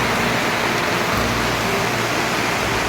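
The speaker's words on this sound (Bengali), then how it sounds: "বাইরে মুষলধারে বৃষ্টি হচ্ছে" Heavy downpour falls outside in a mountain valley, a dense, even roar of rain that holds steady throughout without any voices.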